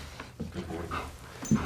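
A police K9 dog close by, panting and giving soft whimpering breaths at moderate volume, with a brief louder burst near the end.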